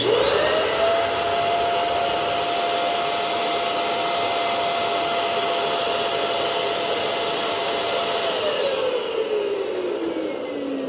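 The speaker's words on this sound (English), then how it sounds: "And then we're gonna pump some air in that baby." Balloon stuffing machine pumping air into a double-neck bobo balloon, a loud continuous blowing whoosh with a steady whine that holds level, then drops in pitch near the end as it winds down.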